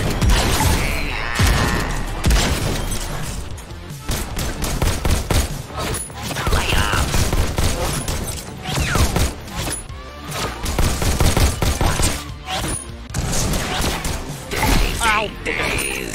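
Rapid, dense gunfire from shotguns in the VR shooter Bullet Train. Loud repeated blasts and impacts crowd together, with talk mixed in among the shots.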